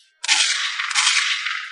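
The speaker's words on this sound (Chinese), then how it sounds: "枪声响起" A single gunshot rings out in an animated rural hunting scene as a man fires his gun toward a forest beside an ox cart. It is a sharp, loud burst followed by a long, hissing decay, with no talk.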